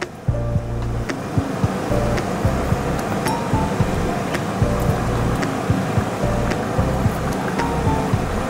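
Pabda fish curry boils vigorously in a pot as the fish pieces go in one by one, a dense, steady bubbling and sizzling roar with occasional light clinks close by.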